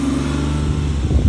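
A BMW E34 540i V8 with a Magnaflow exhaust and resonator delete, revving at a car meet, a close, loud, throaty burble that climbs into a brief rev near the end.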